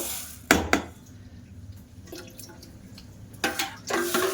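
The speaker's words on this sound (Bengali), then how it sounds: "ভালো করে সাবুটা ধুয়ে নেব।" Small sago pearls being rinsed in water, with two or three short bursts of swishing and splashing separated by quieter gaps, close by.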